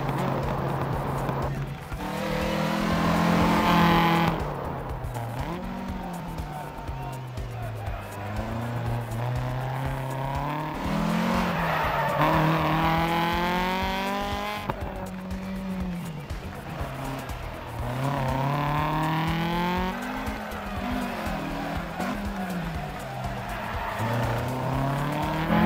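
A Lancia Fulvia HF rally car in the DiRT Rally video game on a Finnish stage, its engine revving up and down through gear changes with tire squeal and skidding, loud and continuous with no speech.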